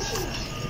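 Pigeons kept at a home loft coo once, a soft low murmur close by with faint background noise.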